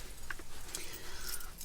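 Keys jangle in short bursts while someone rummages through several sets inside a van, searching for the lock key; the metallic clinks are light and scattered over a steady low background rumble, with no talking.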